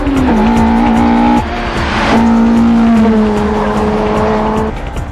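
Subaru Impreza chasing a Toyota AE86 Hachiroku on a tight mountain pass, engines revving loud and near with gear-change pitch steps and tire squeal between shifts, the two cars running close together throughout.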